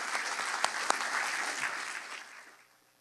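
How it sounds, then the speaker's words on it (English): Applause from the audience at a foundation scholarship award ceremony, a brief burst of clapping with a few sharp claps standing out, fading away over about three seconds. "Let's give them a big round of applause."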